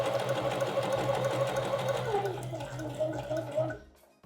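A sewing machine runs a wide zigzag stitch at its largest width setting, a steady close motor whir with a rapid needle rhythm that keeps going for several seconds and then stops abruptly.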